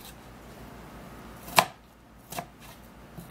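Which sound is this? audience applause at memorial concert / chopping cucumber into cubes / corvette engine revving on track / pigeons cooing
chopping cucumber into cubes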